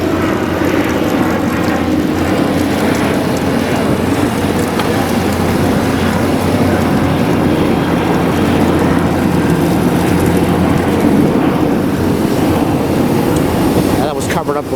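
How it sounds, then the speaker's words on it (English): An airplane passes overhead near a drainage sub-basin water recycling facility under construction in Los Angeles near Playa del Rey, a loud, continuous engine roar filling the whole stretch without letting up. "We got an airplane coming up."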